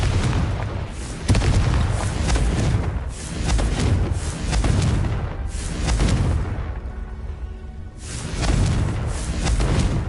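Booming fiery explosions from the Confringo spell in the video game Hogwarts Legacy, a series of repeated loud thumping blasts and whooshes rolling over each other with no clear speech.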